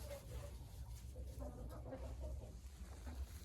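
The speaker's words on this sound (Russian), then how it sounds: "Отличные несушки Ломан Сэнди." Lohmann Sandy laying hens cluck softly in a backyard coop, faint repeated low clucks over a quiet outdoor background with no speech.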